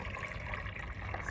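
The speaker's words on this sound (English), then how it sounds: "I pour this into my mixing bowl, which is where I house the batter overnight." Sourdough pancake batter pours into a mixing bowl with a soft continuous liquid trickle, quiet and close, with no speech.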